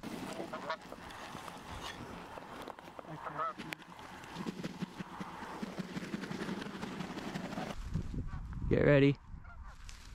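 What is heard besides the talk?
waterfowl calling overhead during a hunt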